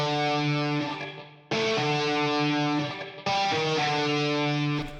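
Sustained electric guitar chords played through the Guitar Rig wide and crunchy preset, a distorted, wide tone with a new chord struck every second and a half or so, loud and alone.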